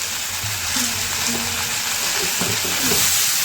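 Malabar spinach sizzles steadily in a hot pan with salt and turmeric, a loud continuous frying hiss with faint stirring scrapes underneath.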